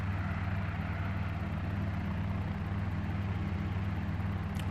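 Robinson-style Cabri G2 helicopter piston engine and rotor running during startup, a steady low throbbing drone with a faint rhythmic pulse, heard alone and at moderate distance.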